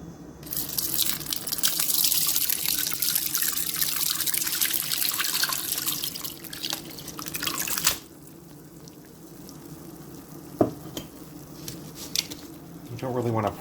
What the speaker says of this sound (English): I'm going to go ahead and strain it into this other bowl here.